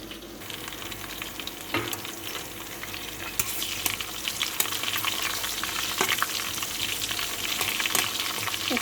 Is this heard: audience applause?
no